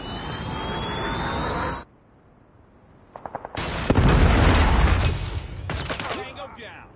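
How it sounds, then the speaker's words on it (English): A Predator missile strike in the mobile shooter Call of Duty Mobile: a loud rushing roar cuts out, then a rattle of impacts leads into a heavy, sustained blast that slowly fades. "Predator missile inbound."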